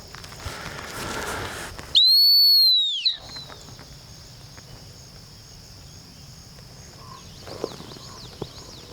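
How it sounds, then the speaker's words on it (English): A single sustained gun dog stop whistle blown during Labrador field training, a loud, clear high-pitched blast of about a second, heard alone against quiet outdoor background. "I'm gonna give her the stop whistle"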